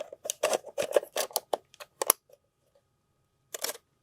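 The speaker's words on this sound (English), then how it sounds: "You heard the shutter." A Canon R6 camera's shutter being fired, with an Error 20 fault under repair, giving a rapid burst of sharp mechanical clicks, then a pause and a final short pair of clicks, close and clear.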